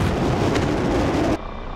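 Bombs dropped from an A-4 in the DCS flight simulator explode on ground targets, a loud, sustained rumbling roar that cuts off abruptly near the end.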